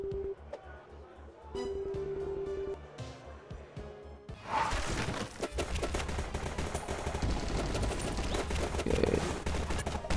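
Rapid pistol gunfire in the mobile action game Guardian Tales, fired in a dense, continuous burst over game music after an opening stretch of tonal music and a brief spoken word.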